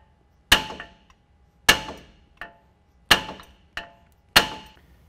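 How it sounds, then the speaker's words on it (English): Five sharp metallic hammer blows, each ringing briefly, strike the steering knuckle of a 2014-2017 Chevy 1500 4WD truck while a lift kit goes in, spaced about a second apart with a couple of lighter taps between. "Again, I just want to strike the knuckle here."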